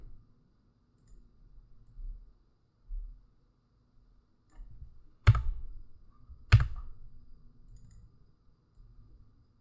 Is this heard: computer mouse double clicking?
yes